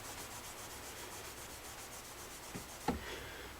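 Semi-chrome polish is rubbed onto guitar frets with a cloth, giving a soft, steady rhythmic scrubbing that is faint and close, ending in a couple of small knocks.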